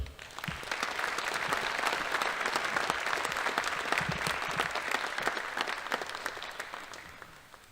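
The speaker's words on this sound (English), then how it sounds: "Let's give this team of academic all-stars another round of applause." An audience applauds an academic all-stars team at an awards ceremony, steady dense clapping sustained for several seconds before tapering off at the end.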